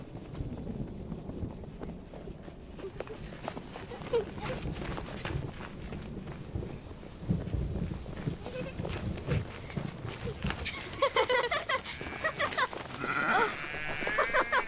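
Sheep bleat several times over a steady hum and busy background noise, with some voices mixed in; the calls grow clearer toward the end.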